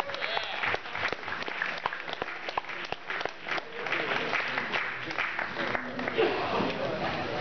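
Applause at a dinner event, a steady wash of many hands clapping with sharp individual claps standing out, sustained throughout.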